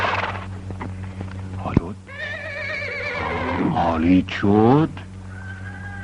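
A young male colt whinnies in a long, wavering neigh that rises and falls over several seconds, loud and close, with hoof clip-clops and someone speaking Persian over it.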